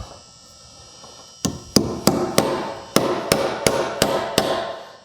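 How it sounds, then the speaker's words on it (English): A hammer drives a nail into a 2x4 wall stud during wall framing, with about nine sharp, loud, close blows in a steady rhythm after a short quiet start and no talking. "And we'll start a nail."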